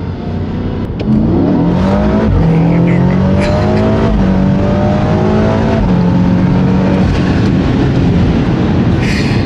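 A BMW engine-swapped car revs loudly and powerfully from inside, its engine note climbing and falling through several pulls. The roar is continuous and close throughout.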